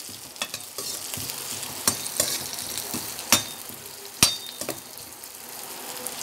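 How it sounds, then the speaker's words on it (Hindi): Chopped carrots stir-fried in a pan of vegetables for chicken Manchurian, giving a steady sizzle broken by sharp utensil scrapes and clinks against the pan, close and without talk. "इसके बाद हम इसमें डाल देंगे गाजरें कटी हुई, इसको भी मिक्स कर देंगे।"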